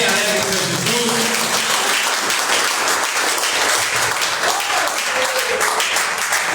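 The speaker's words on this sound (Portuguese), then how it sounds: "As palmas bem alegres para Jesus." A Pentecostal church congregation claps loudly and steadily throughout, a dense, sustained wash of applause with faint voices mixed underneath.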